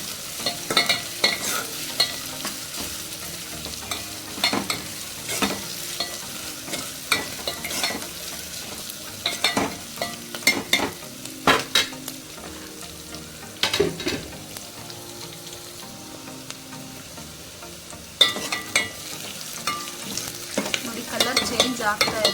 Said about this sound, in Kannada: ಶುಂಠಿ ಹಾಕ್ಕೊಳ್ತಾ ಇದ್ದೀನಿ. ಇದೆಲ್ಲನೂ ಚೆನ್ನಾಗಿ ಬಾಡಿಸ್ಬೇಕು.